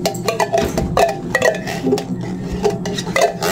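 Utensils clink and scrape against a bowl as a graham bar mixture is stirred by hand, a steady run of close, light metallic taps and knocks with no talking.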